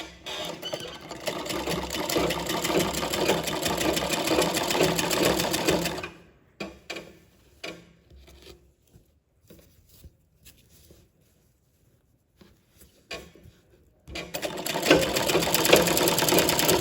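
A sewing machine stitches a blouse sleeve with a fast, steady run of needle chatter for about six seconds. A quiet stretch of scattered handling clicks follows before the stitching starts again near the end.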